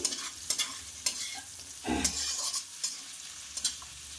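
Food frying in a pan with a soft continuous sizzle, broken by repeated close scraping and tapping stir strokes at an uneven rhythm, quiet overall and without voices.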